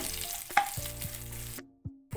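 Garlic sizzles and fries in hot oil in a pan while a Telugu dal and gongura dish is tempered, a steady close crackle with a few sharper pops and a brief quiet gap near the end.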